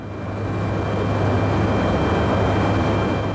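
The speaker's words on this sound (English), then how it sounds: "At Portland Airport, this UPS Boeing 767 was cleared to take off, but an MD-11 was quickly approaching its runway" Jet engines of a UPS Boeing 767 and MD-11 at Portland Airport, a steady loud broadband roar with a low hum, continuous throughout without talk.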